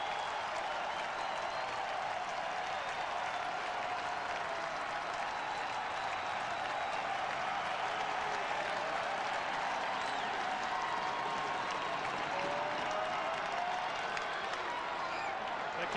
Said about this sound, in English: and the crowd is on its feet